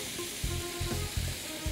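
Colourful mixed vegetables sizzle in a hot pan for a chicken-free macaroni dish, a steady frying hiss broken by a few low scraping stirs, close and alone.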